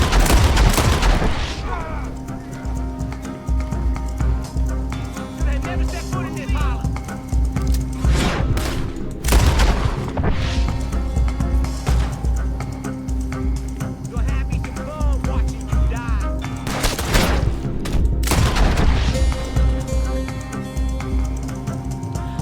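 Gunfire from the Deadeye ability in Red Dead Redemption 2, with repeated bursts of shots and booms around 1, 8, 10 and 17 seconds over a steady loud game soundscape, while someone talks throughout.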